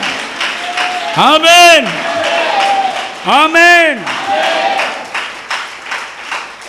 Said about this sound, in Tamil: எல்லாரும் ஆமா ஆமானே கைதட்டுங்க.